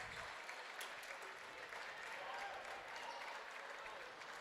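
A high school basketball crowd claps steadily during a Triad Knights timeout against Mascoutah, the applause dense and even from start to finish, with no distinct voices standing out.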